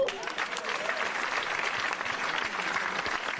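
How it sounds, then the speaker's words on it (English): Audience at a political debate on social justice breaking into steady applause, a dense even clapping at moderate distance lasting a few seconds. "Please withhold your applause."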